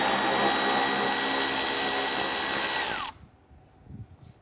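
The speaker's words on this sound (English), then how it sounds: "Up inside of our wheel well, there's a 10 millimeter screw that goes upward through our bumper and into the body. Let's go ahead, loosen and remove that." A power tool loosens and removes a 10 mm screw inside the wheel well of a 2012-2017 Toyota Camry rear bumper. A loud, steady whine runs for about three seconds, drops in pitch and cuts off abruptly into near silence.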